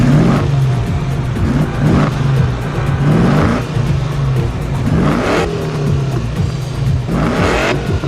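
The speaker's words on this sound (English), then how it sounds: "I gotta start it up and rev it to hear what the engine sounds like" A restored car's engine revs repeatedly in loud surging bursts, each climbing in pitch and falling back, several rises close up with a steady running rumble between them.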